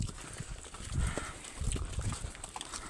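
A thirsty cow makes low, faint mooing sounds amid other quiet livestock noise outdoors, with no clear talk.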